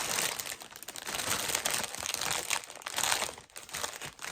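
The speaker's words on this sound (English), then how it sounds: "sorry for the crinkling" Continuous close crinkling and crunching while embroidery floss is handled and held together, steady and busy throughout with no speech.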